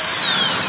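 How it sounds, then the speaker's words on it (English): A power drill bores a vent hole in a concrete disc in a short, loud, close whine with a slightly falling pitch. "have to drill a hole in the disc so that there's a vent hole for the vacuum form"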